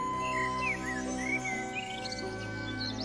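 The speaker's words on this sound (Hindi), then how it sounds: "बहुत से पंछी पानी पीने आए।" Several birds chirp and tweet in short rising calls over a steady tonal drone and faint insect-like buzz, moderately quiet and close.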